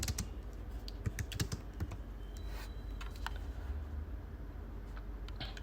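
Rapid keystrokes on a computer keyboard while logging into an Aruba ClearPass appliance's command line, a steady close clatter of clicks with no talking.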